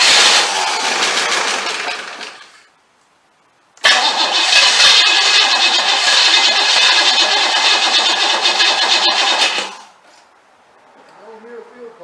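A 1994 Cadillac DeVille with a 4.9 engine cranks loudly in two long starting attempts separated by a short pause, followed by a quiet moment with faint low sounds.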